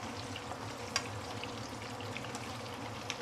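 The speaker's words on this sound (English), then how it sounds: "So this is why I always prefer to deep fry the prawn before I cook it into any other dishes" Prawns deep frying in hot oil, with a steady broad sizzle and faint crackle throughout and a few sharp pops, heard close and alone.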